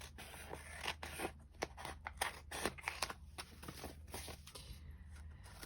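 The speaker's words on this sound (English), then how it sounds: "So let's take this envelope apart." A paper envelope being pulled and cut apart at close range, with repeated sharp crinkling, snipping and tearing bursts over a steady low background hum.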